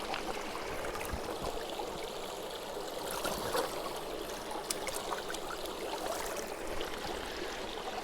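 Water pours and trickles steadily into a water filter bag for several seconds outdoors, a soft continuous splashing flow without any voices.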